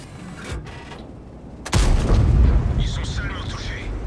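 A tank gun fires in a game on the Serene Coast map, a sharp heavy boom halfway through followed by rumbling echo, with a softer thud earlier and someone talking over it.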